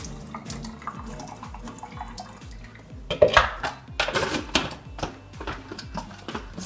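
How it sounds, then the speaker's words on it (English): Water runs from a kitchen tap over an apple and salad leaves in the sink, a steady splashing stream that grows louder midway, with light knocks and handling sounds, no talking. "Wash our apple pretty well here. Rinse our leaves."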